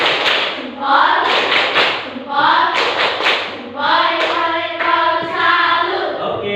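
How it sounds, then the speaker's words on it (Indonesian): Classroom of children doing a rhythmic clapping salute together, several loud bursts of patterned group claps with chanting voices mixed in. "kita tepuk salut dulu biar tambah semangat"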